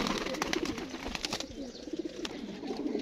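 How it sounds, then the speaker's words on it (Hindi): A large black-and-white pied fighting pigeon coos softly among other pigeons, low rolling coos repeating over a busy background of fluttering and rustling, with no voices. "एक सियाह काबरा कबूतर दिखा रहे हैं, बड़े वजूद का कबूतर है"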